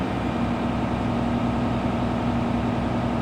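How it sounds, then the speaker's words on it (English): A Grove crane's engine revs steadily while its suspension levels itself, a continuous low, near drone with a strong steady hum and no voices. "So we'll wait till that stops revving."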